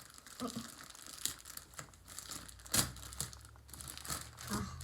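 Paper or plastic packaging of a diamond art canvas being torn open by hand, a run of crinkling, ripping rustles with one sharper tear near the middle, close and fairly quiet.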